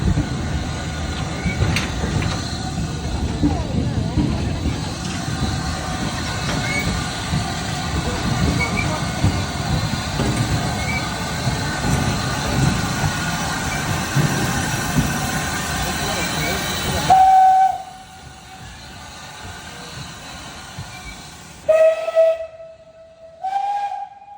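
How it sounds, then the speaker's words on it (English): A steam train rumbles and hisses with voices underneath, then falls quiet before its shrill whistle sounds in a short blast and later several longer toots. "that is the noise that a steam train makes when pedestrians will not get out of its way"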